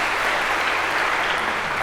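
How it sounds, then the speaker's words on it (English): A lecture hall audience applauds in a dense, steady burst of clapping that fills the whole moment, loud and close. "And now we get your round of applause"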